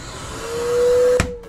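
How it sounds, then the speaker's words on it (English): The central vacuum system in an RV hums as it spins up, a steady motor whine swelling over about a second before a sharp click cuts it off, close and fairly loud, no talking. "We also have a central vac system."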